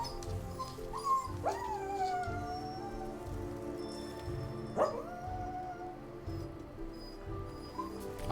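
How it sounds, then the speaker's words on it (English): A puppy in the video game Epistory whimpers and whines in two long, wavering cries, rising then sliding down, over steady rain and a soft musical backdrop. "I hear you, puppy."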